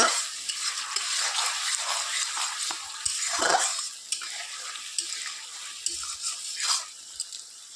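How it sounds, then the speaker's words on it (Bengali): Spice paste sautéing in oil in a pan over a wood-fired clay stove, a continuous bright sizzle with occasional scraping stirs, close and steady, no talking. "মশলা কষানো হচ্ছে ভালো করে মশলাটা কষিয়ে নেবো"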